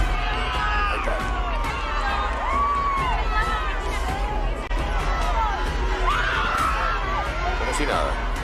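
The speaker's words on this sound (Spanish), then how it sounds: "Escuchá los gritos, ahí está." A large crowd at a political event in Argentina shouts and cheers continuously, a dense roar of overlapping voices with occasional louder cries, heard from a distance throughout.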